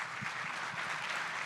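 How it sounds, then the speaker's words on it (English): An audience at an energy grid and economy conference panel applauds, a brief, steady patter of clapping heard at moderate distance with no talk over it. "after a round of applause"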